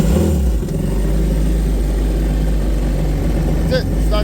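A jet ski engine runs steadily at a loud, close idle with a constant low rumble, and a voice speaks briefly near the end.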